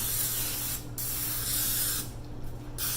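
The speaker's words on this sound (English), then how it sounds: "I'm going to spray this lasagna dish good with some olive oil spray" Olive oil cooking spray hisses onto a lasagna dish in several close, loud bursts, with a couple of short pauses between the sprays.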